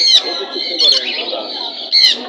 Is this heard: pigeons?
yes